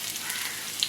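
Chopped onion and green chili fry in hot oil in a pan for an Indian jackfruit curry, giving a brief soft sizzle with a faint crackle near the end.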